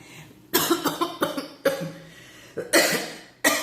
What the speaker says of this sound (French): Je m'étouffe.